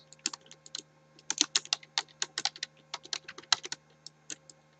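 Rapid typing on a computer keyboard as a command is entered at a Windows command prompt, with close, crisp key clicks in uneven bursts and short pauses, alone without talk.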